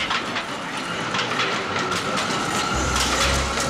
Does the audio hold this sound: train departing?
yes